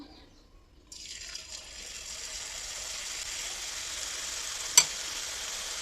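Boondi batter dripping through a slotted spoon into hot oil for an Eid sweet, bursting into a steady, broadband frying sizzle that swells after a quiet start and holds evenly, with one brief sharp crackle near the end.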